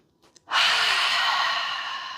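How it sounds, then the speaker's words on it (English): A single long open-mouthed exhale during a beginner yoga breathing exercise, a loud breathy rush of air that begins abruptly after a faint inhale and fades slowly, close to the microphone with no talking. "We'll take 3 nice deep cleansing breaths together to ground in, inhaling fully to begin."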